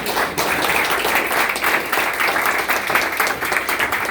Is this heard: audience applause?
yes